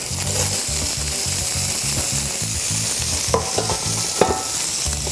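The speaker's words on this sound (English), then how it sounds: "I'm going to add right to that butter my green peppers" Green peppers sautéing in butter in a pan, a steady loud sizzle with a faint rhythmic undertone and a couple of sharp clicks near the end, no one speaking.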